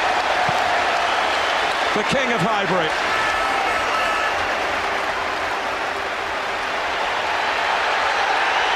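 A huge stadium crowd at Highbury applauds and roars for Dennis Bergkamp on the ground's last day, an Arsenal v Wigan match in 2006, a constant dense wash under a commentator's voice.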